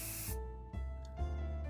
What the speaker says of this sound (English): Bug spray deployed.